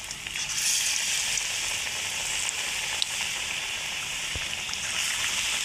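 Potato chops frying in hot oil, a steady close sizzle and crackle filling the whole stretch with a few small pops, no voices.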